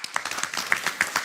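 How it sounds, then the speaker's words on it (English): Audience at a blue economy conference panel clapping briefly and unevenly, with a handful of separate claps standing out from a thin patter. "I would like us to clap to them"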